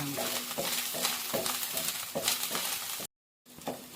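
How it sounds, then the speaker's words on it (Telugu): Sizzling frying and steady spoon stirring in a pan while making palak paneer curry with fresh butter, rhythmic scraping strokes over a constant hiss, with a short silent gap near the end. "బాగా ఫ్రై చేద్దాం కొంచెం ఒక వన్ మినిట్ ఇలాగే కలియబెట్టి"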